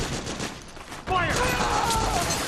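Gunfire in Metal Gear Solid 4 during a firefight, a dense rattling fusillade that starts abruptly partway through and continues under shouted voices.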